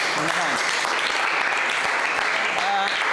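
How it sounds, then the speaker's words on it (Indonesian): Classmates clap for a group that has just presented, a continuous, even round of applause from a room of students with voices speaking over it. "Tepuk tangan untuk kelompok 1"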